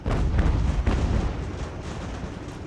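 Mortar artillery fire from Ultimate General: American Revolution, a dense run of loud overlapping booms and rumbling blasts rolling steadily for a few seconds with no talk.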